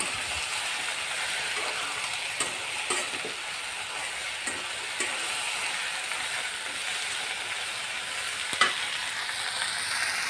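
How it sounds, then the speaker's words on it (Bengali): A spoon stirs small boiraali fish curry with eggplant in a pan after salt goes in: a steady soft sizzle with occasional scraping clicks of the utensil against the pan, no talking. "লবণ দিয়ে এখন নাড়াচাড়া করব, একটু নেড়ে দিব।"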